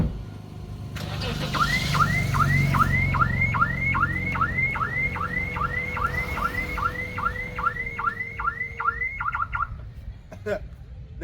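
Toyota Mark X car alarm chirping in a fast, steady run of about twenty rising tones, loud and close, over a low rumble and background noise, ending with a brief click.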